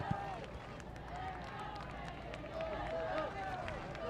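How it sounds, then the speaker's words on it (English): A stadium crowd urges on the home side, San Diego Wave FC, during a 2022 NWSL match against Orlando Pride, with a steady, distant roar that swells slightly, heard under a commentator's talk. "As the crowd urges on the home side, San Diego Wave FC"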